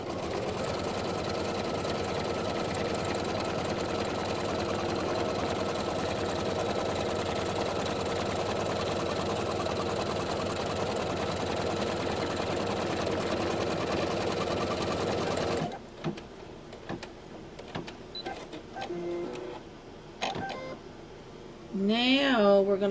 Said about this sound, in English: We're going to stitch a line at the bottom first, straight across the bottom